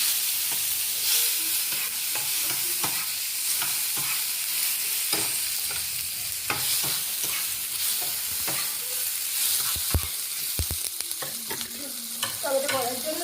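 Tomato is stirred and fried into a soybean curry in a pan, with a continuous sizzle broken by repeated scraping strokes of a spoon and a few sharper clatters near the end.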